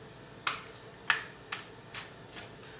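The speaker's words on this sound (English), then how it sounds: "I sit here and shuffle away and I forget how close it is to the mic" Oracle cards shuffled right beside the microphone, giving a handful of sharp, crisp riffling bursts at irregular intervals, close and fairly loud against a quiet background.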